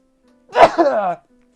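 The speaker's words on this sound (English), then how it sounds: "And I'll sneeze." A single loud sneeze, close up, with a sharp burst followed by a short trailing voiced exhale, against near silence.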